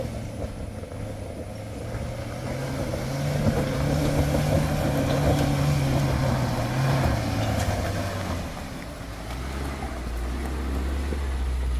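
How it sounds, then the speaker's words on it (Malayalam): A Maruti Suzuki Jimny climbs a muddy slope on a rainy monsoon drive, its engine droning steadily and rising in strain mid-way before easing, fairly close with no voices. "അപ്പോൾ ആദ്യത്തെ വണ്ടി ജിംനി കയറി വരുവാണ്"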